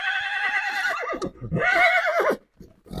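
An 11-year-old stallion about 1.64 m tall gives a loud, close whinny, a long shrill call that dips and then rises again before breaking off.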